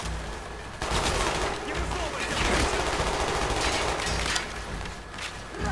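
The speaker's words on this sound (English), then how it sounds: "Just kind of swing left to right, shooting people." Sustained gunfire rattles through a Call of Duty Black Ops shootout, dense bursts and volleys running almost continuously at close range after a brief quieter opening, with a dip near the end before it picks up again.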